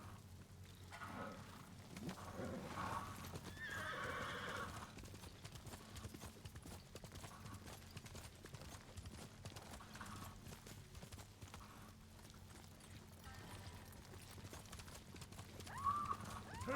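Horses ridden along a road in a game set in a Japanese prefecture, steady clip-clop of hooves with occasional neighs and whinnies, fairly faint and continuous, with soft rustling mechanisms.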